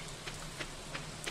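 Rain falls in the Stardew Valley video game as a faint, steady wash of patter, with a few soft droplet ticks recurring at roughly regular intervals.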